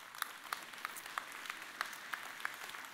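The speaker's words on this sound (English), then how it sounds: "Would you give her a round of applause as she comes out?" An audience applauds at a workplace talk, a faint, distant round of scattered, evenly paced claps with no voices over it.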